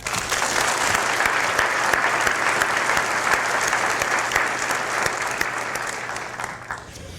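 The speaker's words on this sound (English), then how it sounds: "let's give one more round of applause to the administrators, to the faculty, and the staff" Large audience applauding at a 2018 dental medicine school commencement ceremony, a dense steady wash of clapping that holds loud for several seconds before tapering slightly at the end.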